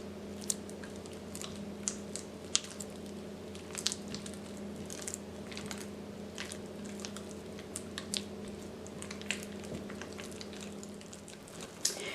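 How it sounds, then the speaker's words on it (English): Spoon stirring cream cheese and butter in a bowl, soft wet squishing and scraping strokes with occasional light clicks against the bowl, steady and close. "We just finished mixing the cream cheese and butter"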